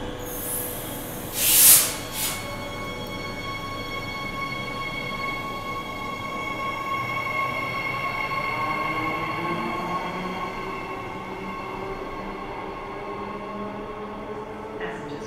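Train on the Fremantle to Elizabeth Quay line at a station platform, with a steady electric hum and high tonal whine throughout and a brief loud hiss near the start.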